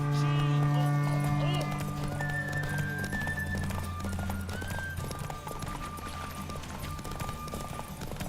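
In The Witcher 3 video game, a horse gallops with rapid, rhythmic hoofbeats under constant game music and a brief whinny, with voices talking over it throughout.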